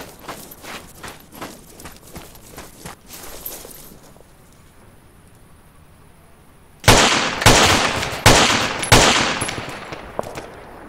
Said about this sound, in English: I mounted the machine gun on the ground.